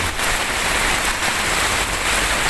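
Heavy rain pours down steadily in a forest in a dense, continuous hiss, with no voices, as if falling through trees close by.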